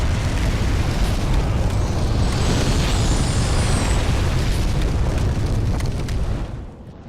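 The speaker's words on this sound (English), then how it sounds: "you stand here, the drake will blow the area with fire" A drake breathes fire across an area in Demon's Souls: a loud, continuous roaring blast of flame that rumbles heavily for several seconds before tapering off at the end.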